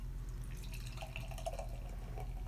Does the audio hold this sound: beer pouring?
yes